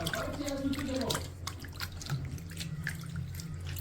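Prawns are rinsed in water for a prawn and gongura dish, with splashing, trickling and dripping in a sink close by under steady background hum.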